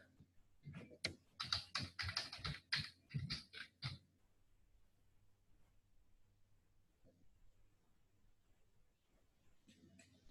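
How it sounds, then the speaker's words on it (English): A computer keyboard clatters in a quick burst of close, crisp key presses for a few seconds, then quiet room tone follows with a few faint soft clicks. "And I would type in Johannesburg."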